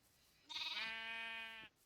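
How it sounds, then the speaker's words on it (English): A single sheep in Minecraft lets out one clear, wavering bleat lasting about a second, close and alone against quiet background. "I'm incidentally breeding sheep because apparently they seem to like getting sheared by me so much"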